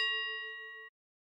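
A single clear mobile phone notification ding, a bright bell-like tone that rings alone and fades smoothly before cutting off in silence.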